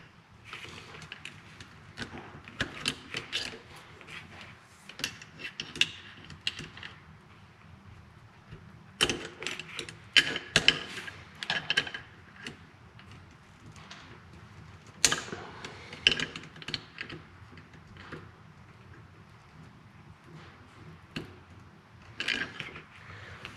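Pliers bend a cotter pin on a 1946 Farmall M tractor governor being rebuilt, giving quiet, scattered metallic clicks, creaks and scrapes in close bursts with pauses between.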